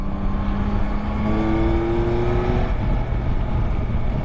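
A 2022 Yamaha Tracer 9 GT motorcycle being ridden, its engine droning steadily with a rising tone as it accelerates, close and loud over constant wind and road noise.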